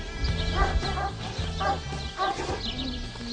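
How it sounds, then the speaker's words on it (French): A guard dog barks repeatedly in sharp bursts, fairly close, with steady low background noise underneath. "C'est un chien de garde."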